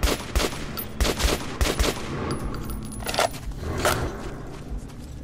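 Guns fire in the Metro 2033 Redux video game in sharp, loud bursts, several clustered shots followed by scattered single reports over about five seconds, with metallic clinks and clatter between them.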